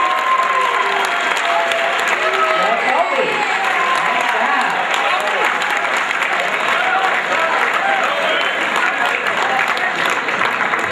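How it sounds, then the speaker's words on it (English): Sustained, loud applause from a school assembly audience honoring a student who won a guitar prize, dense even clapping filling the room throughout with light crowd murmur and a voice over it. "let's give Colby another huge round of applause"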